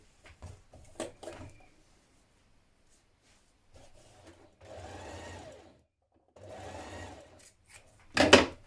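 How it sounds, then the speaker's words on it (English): A sewing machine stitches a shirt's underarm seam in short separate bursts: a few quick taps, then two longer whirring runs and a final loud burst, close and clear with quiet gaps between. "I'm going to stitch our underarm seam."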